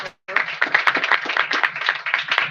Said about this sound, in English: we're going to applaud you in English